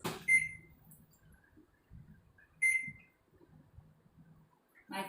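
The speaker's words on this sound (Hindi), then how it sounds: "माइक्रोवेव का बटन दबाएंगे" A microwave oven's button gives two short, sharp, clear beeps a couple of seconds apart over quiet kitchen handling noises, with no talking.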